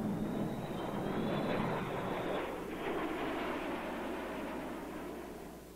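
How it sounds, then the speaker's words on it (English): B-52 intercontinental bomber jet engines give off a steady, loud roar with a faint high whine, unbroken for several seconds and slowly fading toward the end. "The fleet of 600 intercontinental bombers was completely modernized."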